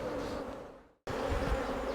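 Dense, steady hum of honeybees at an open hive during royal jelly production, loud and close, with a brief near-silent break midway before the buzzing resumes.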